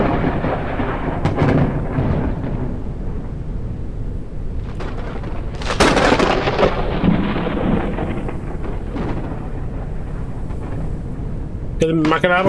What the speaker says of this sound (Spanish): Las tormentas eléctricas